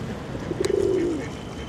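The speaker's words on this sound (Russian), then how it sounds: "Утки, тут голуби тусуются." Pigeon cooing on a Maltese seaside stroll, a single soft rolling coo rising from a few short notes into a longer drawn-out call, close by over light outdoor ambience.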